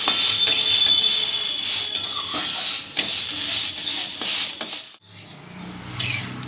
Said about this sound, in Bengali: আমি চালটা ভেজে নিচ্ছি